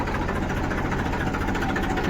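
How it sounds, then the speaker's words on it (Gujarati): A loaded tractor engine runs steadily at close range, a continuous low rumbling drone with a rhythmic mechanical knock and no pauses. "એટલે હવે આ ટ્રેક્ટર આપણે જવા માટે તૈયાર થઈ ગયું, રેડી."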